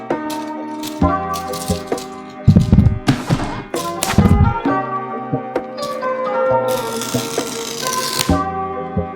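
Unboxing an Apple MacBook Pro with the M3 Pro chip brings a run of close, loud taps, thuds and rattles as cardboard and packaging are handled, with brief scraping and sliding in between.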